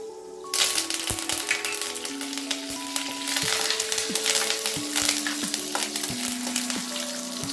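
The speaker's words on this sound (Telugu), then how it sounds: "ఇవన్నీ కూడా గోల్డెన్ బ్రౌన్ కలర్ వచ్చే వరకు ఫ్రై చేసుకోవాలి" Spices, dried chilli and curry leaves frying in oil in a pan, a loud crackling sizzle that starts abruptly and continues with repeated spatula scrapes and stirring knocks, close, with no talking.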